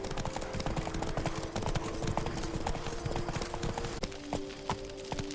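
Roach the horse's hooves clip-clopping at a steady trot in The Witcher 3, close and rhythmic over continuous ambient game sound, with a brief shift in tone near the end.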